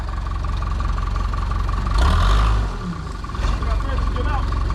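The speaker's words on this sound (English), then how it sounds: "got the wheels up on the backhoe" A backhoe engine runs steadily near junk cars being pulled from the woods, a low idling rumble that swells briefly as it works, with people talking over it.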